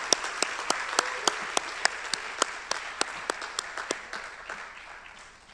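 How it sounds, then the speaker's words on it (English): Audience applause for student athletes at a city awards ceremony, sharp rhythmic claps standing out over a softer crowd wash, gradually thinning and fading toward the end. "One more round of applause for the athletes"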